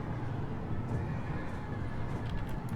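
Horses neigh and whinny amid a dense cavalry mass of horse archers in the strategy game Total War: Attila, with a constant low rumble of hooves and battle noise throughout.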